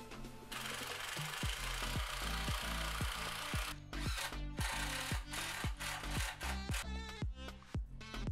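A power screwdriver drives screws into the wooden crossbar of a garden shed frame, a close, moderate whir broken into short repeated bursts with clicks and knocks between them.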